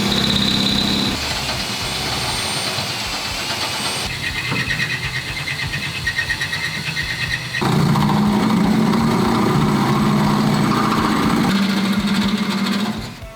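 A power drill boring a pilot hole for a panhard bar mount on a truck chassis, whirring in long continuous runs, its pitch and load shifting as it bores through, loud and close.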